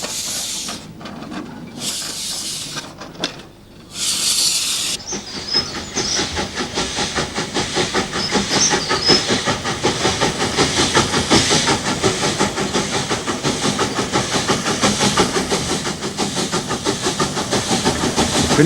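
A Spanish narrow gauge Mogul steam locomotive on the La Robla line, a steady loud hiss and rushing chuff that settles in after a brief quieter, broken opening.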